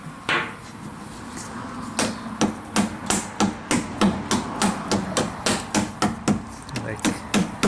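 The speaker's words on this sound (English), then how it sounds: "Let's see if I can get my hammer going here." Repeated sharp metallic hammer blows, about two per second, striking a hollow car body panel up close during rust repair on a Toyota Corolla, with steady rhythm and low background hum.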